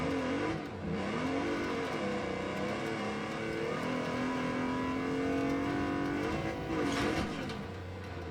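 A car engine in the racing video game Wreckfest 2 revs and strains steadily for several seconds, with pitch swings and brief tire skids as the car slides, loud and continuous.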